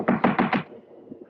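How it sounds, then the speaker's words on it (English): Four firm knocks on a wooden door in quick, even succession, close and clear, followed by a quiet room with faint rustling. "Better try knocking this time, Watson."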